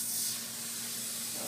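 An airbrush sprays in a steady, soft hiss for a moment, close up and alone.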